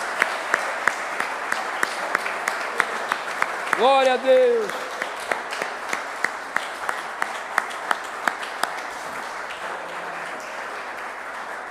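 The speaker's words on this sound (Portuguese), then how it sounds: "Vamos aplaudir ao Senhor" Church congregation applauding the Lord during a worship service, steady rhythmic clapping throughout with a brief loud shout of praise from a voice near the middle.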